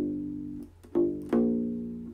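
A U-Bass picked on flatwound strings plays a short, deep, thumpy groove of three notes, each with a soft attack and a warm, rounded decay, quiet and alone.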